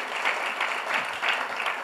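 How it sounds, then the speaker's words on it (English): Church congregation at Zion Church in San Clemente applauding during a Sunday service, a brief burst of steady, close clapping from many hands lasting about two seconds. "we love to clap here"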